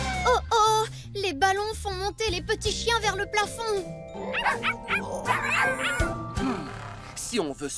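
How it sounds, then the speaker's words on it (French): Cartoon puppies yip and bark in quick high-pitched bursts in a Blaze and the Monster Machines episode, repeated many times over music, with animated voices talking between the barks. "Oh oh, les ballons font monter les petits chiens vers le plafond."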